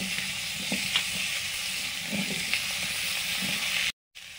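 Chola kochu (taro) and potato pieces frying in oil give a steady close sizzle with a few soft stirring clicks, then cut out briefly near the end.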